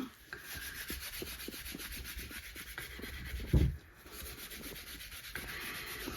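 Steel wool rubs steadily across a handmade wooden soap dish in close, continuous scratchy strokes, with one brief louder knock partway through.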